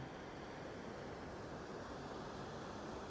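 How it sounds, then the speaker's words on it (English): Waterfall at Tallulah Gorge, a faint, steady broadband rush of falling water heard from a distance, unbroken throughout with no voices. "And you can kind of see the waterfall here."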